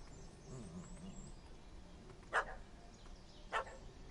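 A puppy in the video game The Witcher 3 gives two short, sharp barks a little over a second apart, fairly distant and faint over a low ambient game background.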